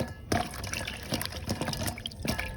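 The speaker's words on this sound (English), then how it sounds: "Okra. Rinse them off too." Okra rinsed under running water, a close splashing stream with a few louder gushes and drips that go on for a couple of seconds, with no talk.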